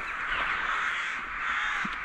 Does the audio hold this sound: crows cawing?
yes